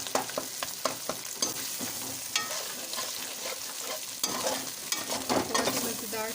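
Minced mutton keema with home-ground red chilli powder and spices is stirred in a hot pan, with rapid repeated spatula scrapes and clinks over a continuous sizzle.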